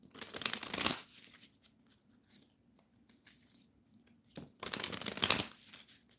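A deck of cards shuffled up close: two loud riffling bursts, each about a second long, separated by a few seconds of quiet handling, with no talking.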